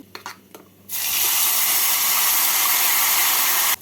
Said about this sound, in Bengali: মিক্সিং জারটা ধুয়ে অল্প জল দিয়ে দিলাম